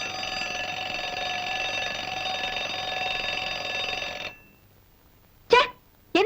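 An alarm clock rings at home in the morning with a continuous bright electronic buzzing for about four seconds, then stops, followed by two short sharp sounds.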